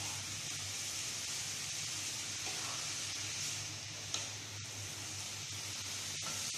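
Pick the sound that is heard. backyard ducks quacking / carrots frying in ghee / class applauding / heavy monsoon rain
carrots frying in ghee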